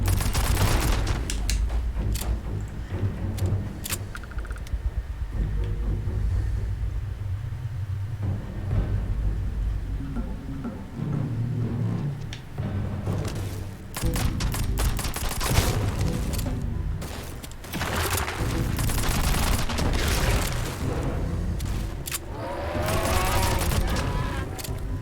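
Rapid, relentless gunfire from an overpowered gun in the PC game Starfield, loud and close, with bursts and booms running almost unbroken for the whole stretch over dense combat noise.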